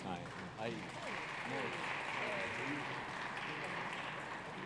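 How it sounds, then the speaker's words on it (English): Audience applause for guests joining an agro-processing finance panel, a steady wash of clapping through the room with voices talking over it. "A round of applause, please."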